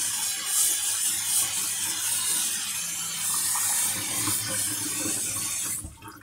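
Hot water gushes steadily from a kitchen tap into a sink during pho preparation, a loud continuous hiss and splash that stops abruptly near the end.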